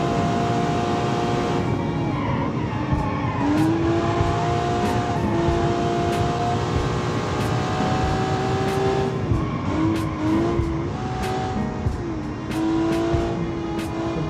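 A track car built for BeamNG driving accelerates hard, its engine note climbing steadily through the gears with rising harmonics, loud and continuous, with faint tire noise underneath and no talking.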